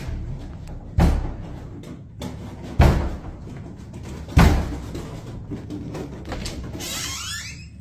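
Doors slam shut three times at spaced intervals, each a loud, close, sharp bang over a quiet room hum, followed by a brief high swishing rattle at the end.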